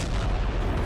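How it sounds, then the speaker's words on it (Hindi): A deep, rumbling blast from a missile strike in the Russia-Ukraine war, a brief dense boom that fills the short moment with low roar. "मिसफायर मिसाइल से बड़ी दहशत।"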